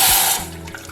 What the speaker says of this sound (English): to my sauce pot here I'm going to add 3/4 of a cup of distilled white vinegar